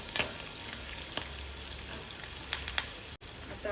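Green chillies roast in a hot pan for dal batti, giving a steady, close hiss of sizzling with a few sharp clicks and scrapes from stirring scattered through it and no voices.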